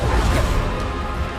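Depulso spell cast in Hogwarts Legacy, a loud, broad rushing whoosh of force filling the moment with a dense, noisy burst and no speech.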